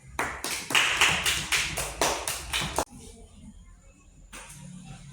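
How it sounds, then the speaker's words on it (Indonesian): Group 1 gets a burst of applause in a classroom, with quick, dense hand-clapping for almost three seconds before it stops abruptly, leaving quiet room noise and a faint voice. "beri aplaus untuk kelompok 1"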